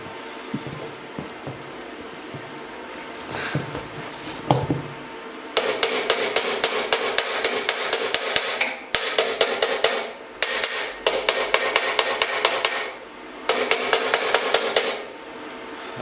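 A hammer taps on metal while an exhaust system for a BSA B50 MX motorcycle is shaped, with fast bursts of sharp, ringing strikes separated by short pauses and some scattered knocks before them.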